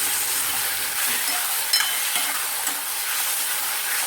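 Onions and tomatoes sizzle in hot oil in a pot for pav bhaji, a steady frying hiss with a few soft scrapes and clinks of stirring.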